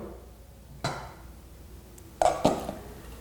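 Plant material dropped into a stainless steel pot, giving a dull knock and then a pair of louder clattering bumps against the metal, with quiet room tone between.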